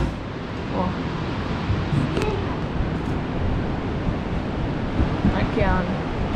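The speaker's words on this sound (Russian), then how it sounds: "Океан." Ocean surf on a Gold Coast, Australia beach, heard from a 25th-floor balcony, washes continuously in a broad roar, with a few faint voices in the background.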